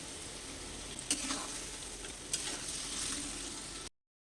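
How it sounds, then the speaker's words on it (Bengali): Spice paste for a Bengali fish-head and cabbage dish sizzles steadily in a pan, a continuous close frying hiss with two sharp clinks of stirring, ending abruptly. "এখন মশলাটাকে কষতে হবে আর একটু জল দিচ্ছি"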